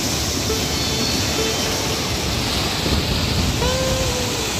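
Forceful flowing water of the Godavari river at its confluence with the Kapila in Nashik, a dense, steady rushing roar throughout, with faint tonal whistles briefly over it.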